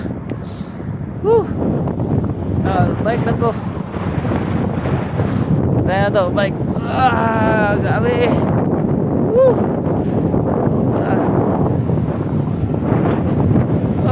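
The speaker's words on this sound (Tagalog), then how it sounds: "Lisod kay tungas, kay sugat ang hangin." Strong headwind roars and buffets the microphone continuously while a man cycling uphill into it talks over it, slightly breathless.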